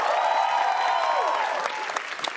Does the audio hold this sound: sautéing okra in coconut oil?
no